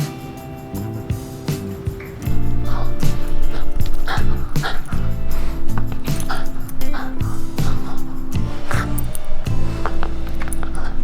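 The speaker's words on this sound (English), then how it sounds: "You dogs aren't allowed at the table." Dogs yip and whimper excitedly with short barks scattered throughout, fairly close and loud, over a busy indoor background.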